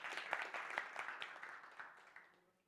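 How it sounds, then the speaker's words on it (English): Audience applause at a summit, spread across a room and fading out over a couple of seconds, fairly quiet and distant. "give yourselves a wonderful round of applause"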